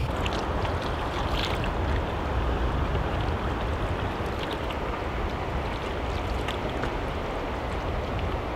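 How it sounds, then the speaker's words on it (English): Whitewater rapids on the River Røa in Fermundsmarka National Park, Norway, a loud continuous roar of tumbling, thundering water with steady broadband rush and no voices. "You can hear that water tumbling and thundering down."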